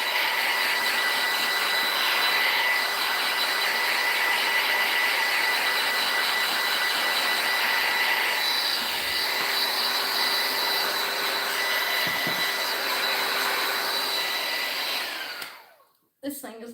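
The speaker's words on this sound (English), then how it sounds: "I know this heat tool is loud. I apologize. I'm just trying to dry it on high so it'll get done faster." A loud heat tool runs on high for a long, steady stretch to dry a craft project, a constant close whooshing roar with a faint whine, before it is switched off near the end.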